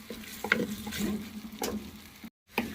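Potatoes fry in a handi pot with a low crackling sizzle and clattering stirring strokes, brief utensil knocks, and a short pause near the end before the frying resumes.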